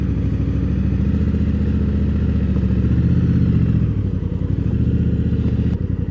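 A 2024 Honda Africa Twin motorcycle pulls away at night, its engine thrumming steadily and close, swelling slightly as it clunks forward and moves off, with no talking.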